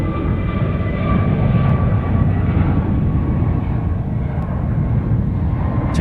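A Jetstar airliner takes off at Sydney Airport, its loud, steady engine roar rumbling up close and unbroken for the whole stretch.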